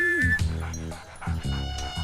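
A dog whimpers and yips in a few short, plaintive whines at close range within a film scene.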